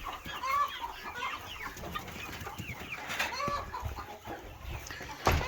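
Chickens and roosters of a farm's main flock cluck in a steady, busy chorus, with chirps and short calls overlapping at close range and no talk.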